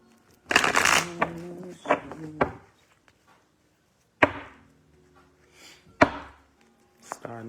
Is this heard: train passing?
no